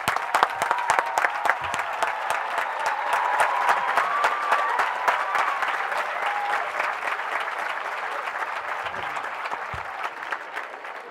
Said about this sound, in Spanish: Un aplauso para todos.